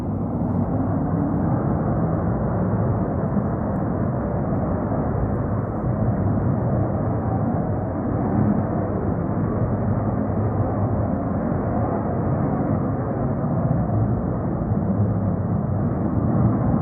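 Fighter jets passing overhead, a steady, loud roar that fills the whole stretch without a break and rises slightly toward the end, with no talk over it.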